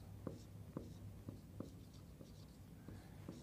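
A marker drawing on a board, heard as faint, quick squeaky taps and short strokes in an uneven rhythm, close but quiet.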